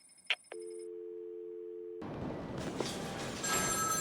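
A telephone rings in the video game Batman Arkham City: a brief ring burst, then a steady electronic tone held for over a second, followed by a wash of ambient game noise.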